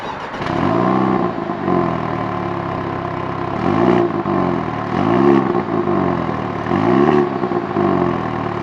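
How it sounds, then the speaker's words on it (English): A MINI JCW Convertible's exhaust rumbles loudly and steadily at idle, swelling into three or four distinct revs that rise and fall in pitch before settling back each time. "So what kind of Mini enthusiast would I be if I didn't have you guys hear the exhaust?"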